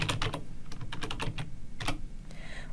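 Computer keyboard typing in quick bursts of close, crisp keystrokes with short pauses between, no voices.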